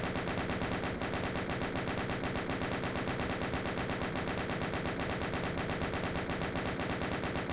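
Rapid sustained gunfire in the Doom mod Eviternity II, a loud continuous machine-gun stream with evenly spaced shots throughout, no speech.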